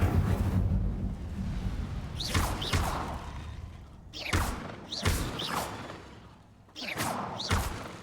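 Fire spells cast in the Hogwarts Legacy video game: several loud whooshing bursts with rumbling thuds come in quick succession over a steady low background roar, with no talking.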